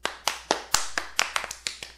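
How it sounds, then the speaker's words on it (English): A small group claps by hand at a podcast recording, giving about a dozen sharp, separate claps at an uneven rhythm, close and fairly quiet. "So we're gonna give him a real applause."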